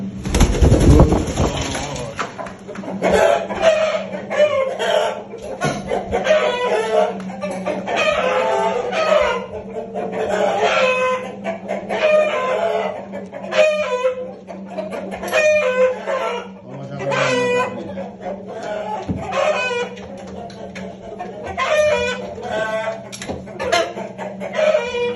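Korean-breed roosters and hens cluck and crow in a poultry yard, repeated close calls and clucking layered over one another with steady background noise throughout.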